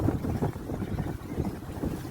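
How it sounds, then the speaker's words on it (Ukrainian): Wind gusts around a hazardous half-built construction site on Yaroslava Mudroho street, a steady low rushing roar buffeting the microphone, continuous and fairly loud with no voices. "От зараз вітер, от воно ось так відбувається."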